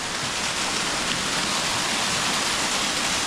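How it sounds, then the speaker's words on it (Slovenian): A small waterfall in a mountain stream in the Soča valley, a steady, close rushing of falling water that fills the whole clip with broad, even hiss and no voices. "in tukaj je tudi še en slapiček"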